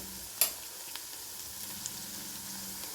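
Salted onion pieces fry quietly in a pan for a paneer and green peas curry, a soft steady sizzle broken by one brief tap of a utensil near the start.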